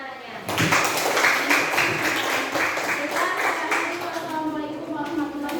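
A classroom of students claps steadily for a student, dense close hand-clapping sustained for about five seconds, with children's voices faintly underneath.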